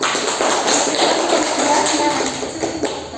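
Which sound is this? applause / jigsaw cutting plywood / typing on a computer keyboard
applause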